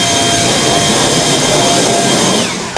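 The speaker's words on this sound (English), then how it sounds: "Timmy, this blower is so efficient" A leaf blower runs steadily, close and very loud, with a dense roaring whine that holds even, then eases off slightly at the end during a garden clean-up after winter.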